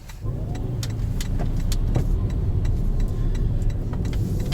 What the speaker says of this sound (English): steady drone as the engine enters its power band